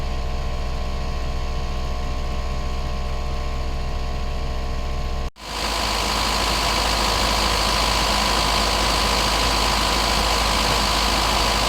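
An Isuzu Dragon Eye pickup's engine idles with a steady low rumble close by. About halfway through there is a brief dropout, and then a louder, hissier blowing layer sits over the idle.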